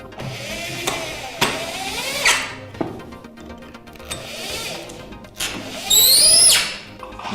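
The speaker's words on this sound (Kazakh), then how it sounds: "Қорапты құрастырмай тұрып, топсаны бекітетін шегелердің орнын дәл осылай тесіп алу керек." Power drill boring holes in wood for a door frame before the hinges go on, with several short whirring bursts and squeals, a louder high-pitched spin near the end, and clunks of handling between.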